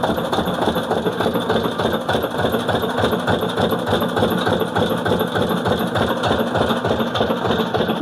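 A motor driving an irrigation well pump on a farm runs continuously, loud and close, with a steady rapid throbbing chug and metallic vibration, no voices.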